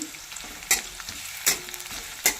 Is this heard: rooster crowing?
no